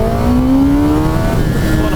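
A 2024 Kawasaki Ninja ZX-10R engine held at full throttle on an open road, a loud, steady high-revving drone whose pitch climbs as it accelerates, continuous and close for the whole stretch.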